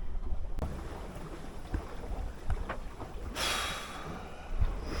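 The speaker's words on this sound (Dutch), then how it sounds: "Het zuchtje wind is aangekomen." Light breeze rushing past a sailing yacht crossing the Doldrums close-hauled, a steady airy wash with soft water slaps and knocks, swelling into a brighter gust of wind noise near the end.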